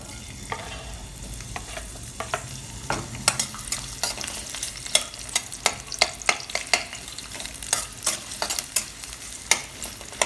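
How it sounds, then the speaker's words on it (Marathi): Finely sliced small onions frying in hot oil in a pan, a continuous close sizzle broken by frequent crisp crackles and spatters, with no talking. "तेल गरम झालं की आपण त्याच्यामध्ये कांदा थोडासा फ्राय करू"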